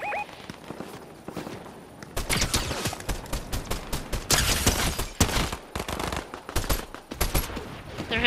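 Rapid bursts of video game gunfire, automatic and single shots, rattle loudly in close succession and stack into dense volleys after a quiet opening.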